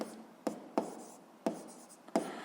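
Pen strokes on paper during a seventh-grade physics exercise, with five sharp tapping scratches at irregular intervals over faint room noise, no voices.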